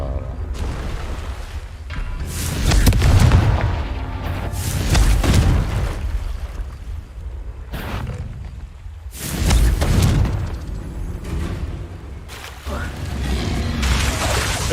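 Explosive Confringo spell blasts in Hogwarts Legacy, several deep booming bursts at intervals with rumbling tails, close and loud.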